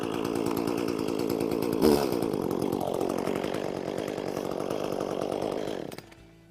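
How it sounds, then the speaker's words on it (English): A gas chainsaw engine runs loud and close with a buzzing drone, revving briefly early on before the motor cuts out near the end. "and you're ready to start your chainsaw."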